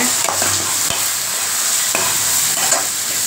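Dried fish and chili powder sauté in hot oil, sizzling loudly and continuously with a few sharp scraping stir strokes of a spoon in the pan, and no voices.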